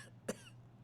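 A single short cough from a talk show host with a cold, close to the microphone, with a quiet pause before and after.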